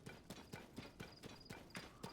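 Horse hooves clip-clop at a steady trotting rhythm in Zelda: Tears of the Kingdom, a regular train of crisp, evenly spaced beats, close and fairly loud, with no talking over them.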